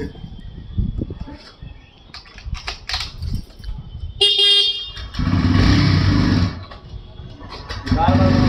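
Motorbike riding through a busy street, the engine droning with horns honking nearby while someone talks over the traffic noise.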